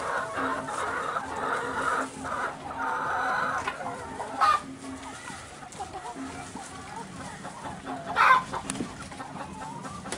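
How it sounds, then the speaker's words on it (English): Several chickens cluck and murmur nearby at their roost at an orphanage in Kenya, with a couple of louder squawks standing out over the steady, soft barnyard chatter. "They're chickens."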